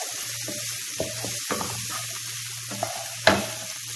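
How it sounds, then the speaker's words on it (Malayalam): Onions fry on a high flame for chicken fried rice, a soft sizzle broken by sharp clinks and scrapes of a spatula against the pan, with one louder knock near the end. "ഇങ്ങനെ വഴറ്റിയെടുക്കുമ്പോൾ ഹൈ ഫ്ലെയിമിൽ വയ്ക്കാൻ ശ്രദ്ധിക്കാം."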